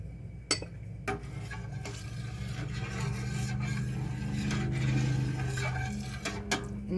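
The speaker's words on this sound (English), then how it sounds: "I am going to add that to my milk and stir this in." Calcium chloride being stirred into a pot of milk for homemade feta, soft scraping and swirling strokes with a few light clinks against the pot, close and fairly quiet.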